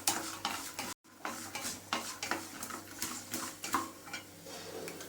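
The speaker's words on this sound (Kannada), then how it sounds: "1 ಟೀ ಸ್ಪೂನಷ್ಟು ಸಾಸಿವೆ, ಸ್ವಲ್ಪ ಕಡಲೆಕಾಯಿ ಬೀಜ ಎಲ್ಲ ಸಿಮ್ಮಲ್ಲಿ ಇಟ್ಕೊಂಡು ಹುರ್ಕೊಳ್ಳಿ" Mustard seeds and peanuts roast in a pan over a low flame, giving a soft steady sizzle. Quick scraping stirs sound against the pan, with one brief gap in the middle.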